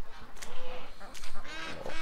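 Ducks, including drakes and a female, call near a lagoon: a few loud, nasal honking quacks in short irregular bursts, close by, with faint background noise.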